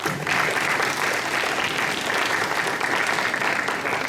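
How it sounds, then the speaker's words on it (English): A debate audience gives the grand finalists a round of applause. The clapping is dense and steady and carries on at an even level throughout. "Ladies and gentlemen, please give a round of applause to our grand finalists."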